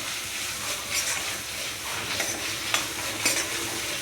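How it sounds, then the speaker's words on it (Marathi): Boiled black peas and chickpeas being stir-fried in a pan for a mixed curry: a steady sizzle with soft scraping and stirring, a few sharper clinks of a spatula. "ते पण थोडंसं याच्यात छान परतून घ्यायचे."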